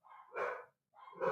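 Dogs give two sharp barks in quick succession, close and fairly quiet, separated by a short silence.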